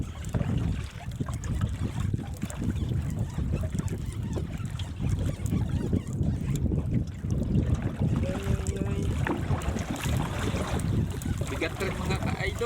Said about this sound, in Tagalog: Lakas yung hangin guys.